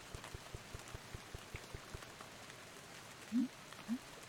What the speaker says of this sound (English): A little bit rainy.